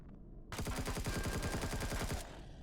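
Automatic weapon fire in the sci-fi survival game Empyrion Galactic Survival comes as a single sustained burst of rapid, evenly spaced loud shots, lasting under two seconds and ending abruptly into quiet.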